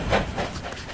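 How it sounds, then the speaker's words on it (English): A steam locomotive on an excursion railroad runs close by, a steady rushing hiss and rumble of wheels and steam without talk, with rhythmic chuffing pulses. "once you see a locomotive belching the smoke and the steam coming out of it, and all the personal sounds that you get from a locomotive"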